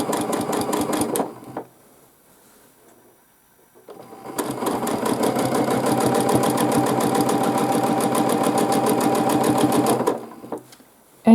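Sewing machine doing free-motion quilting, running in a fast rapid stitching burst, pausing for a couple of seconds, then starting again in a long steady run before stopping.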